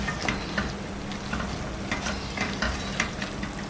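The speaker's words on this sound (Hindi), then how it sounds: "अभी हम इसको अच्छे तरीके से भून लेंगे।" Mutton karahi meat frying with coarse chili, dried coriander and black pepper in a pan, a soft continuous sizzle broken by light scraping stirs at irregular intervals; quiet and close with no speech.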